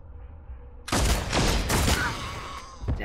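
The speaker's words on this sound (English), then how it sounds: "Now that's a pistol." Sudden burst of pistol gunfire in the video game Warhammer 40K Deathwatch breaks a quiet lull, loud close shots blending into a sustained rumbling volley, with a final sharp shot just before the end.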